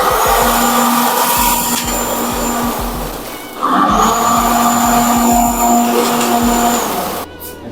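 Cold spark machines firing on a programmed effect give a loud, continuous roaring hiss with a steady high whine, dipping briefly midway before surging again, then cutting off at the end.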